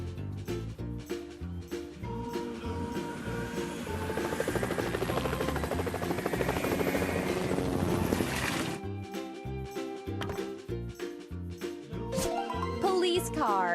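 A cartoon firefighting helicopter from a children's transport repair animation swells into a loud, rotor-like whir for several seconds over cheerful background music, then drops away.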